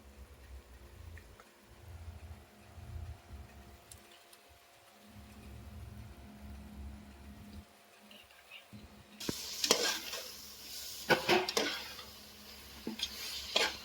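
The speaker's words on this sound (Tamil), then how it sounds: "இந்த ஸ்டேஜில் வந்து நீங்கள் சிக்கன் போட்டு வதக்கிக்கணும்" Chicken is sautéed in a pan for chicken biryani with seeraga samba rice: quiet stretches of low clatter, then a burst of sizzling and spoon-on-pan scraping and knocks, close and without talk.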